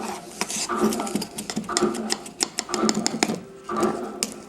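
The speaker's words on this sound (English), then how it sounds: "Okay, so it's mixing the wet ingredients." An electric mixer whirs through wet blueberry muffin ingredients in a bowl, a buzzing motor with pulsing, rattling bursts as the beaters hit the sides.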